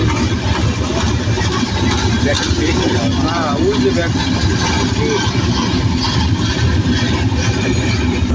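The Madhumati Express passes through Shibchar railway station during a crossing, a loud, continuous rattle and clank of wheels and carriages that rolls on steadily from start to finish.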